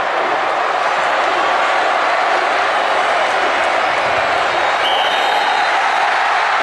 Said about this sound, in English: And this crowd will erupt.